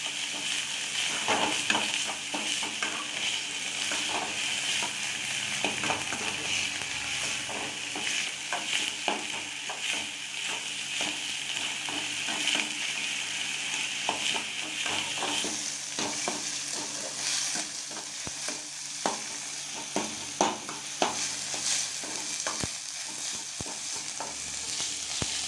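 Chopped tomatoes sauté in a pan with softened onions for an egg gravy, a steady sizzle with repeated stirring scrapes throughout, close and fairly loud.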